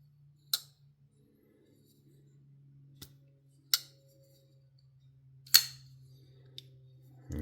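A Kansept Reedus folding knife gives several sharp, isolated clicks spread a second or so apart, with a steady low hum underneath.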